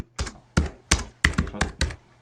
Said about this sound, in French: Il tape sur son clavier.